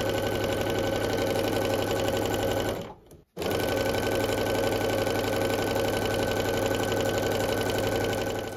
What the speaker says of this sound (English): I'm going to start by sewing this yellow strip to this white strip